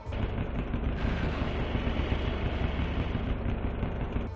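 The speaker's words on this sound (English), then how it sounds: "features a fitting sound effect to accompany the danger that the hazard poses, almost sounding like a roar of flame" A continuous roaring fire blast from the Bowser statue hazard in Mario Kart 64, a dense, loud, rumbling rush of flame that holds steady across the whole span.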